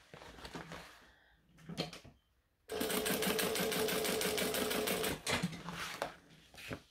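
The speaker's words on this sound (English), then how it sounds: "And I'm going to top stitch each side, like I did with the middle seam," A sewing machine top stitching a seam runs in one steady, rapid burst of about two and a half seconds, framed by quieter clicks and handling noises before and after.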